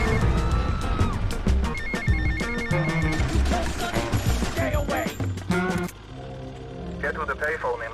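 A telephone rings in Grand Theft Auto during a speedrun, with repeated electronic ringtone tones over dense game music and effects, and people talking over it.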